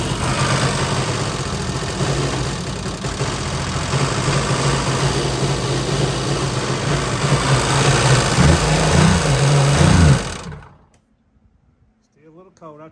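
A cold jet ski engine idles loudly and roughly after a cold start, with a steady rattling drone for about ten seconds before it cuts out, and a voice speaks briefly afterward.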